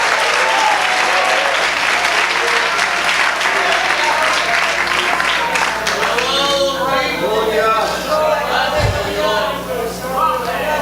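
Church congregation applauding during a sermon, loud sustained clapping from many hands that thins into scattered individual claps near the end.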